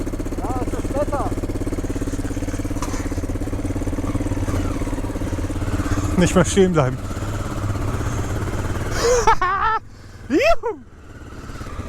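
Motorcycle engine running steadily beneath the rider's excited voice, a low continuous drone with brief surges, while people speak and cheer over it.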